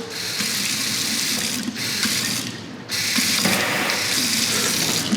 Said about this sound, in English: Underneath the sink there, we have hot water, sprayer works.